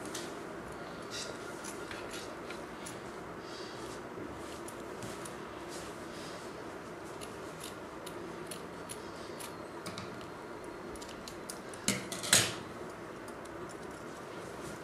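Scissors snip through an embroidered fabric piece, cutting out a hand-stitched stumpwork flower design with steady small clicks over a quiet background and a sharper cluster of cuts near the end.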